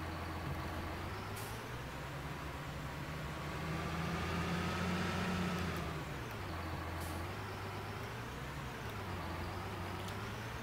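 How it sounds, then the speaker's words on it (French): A Fendt tractor engine in Farming Simulator 19 runs steadily while reversing, its low drone rising and falling in pitch as the throttle changes, with faint clicks and a brief hiss over the constant hum. "Je vais reculer le tracteur."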